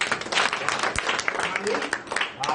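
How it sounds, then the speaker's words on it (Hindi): An audience at a public gathering breaks into hearty applause, a dense spread of many hands clapping at moderate volume, with voices mixed in. "एक बार जोरदार तालियां"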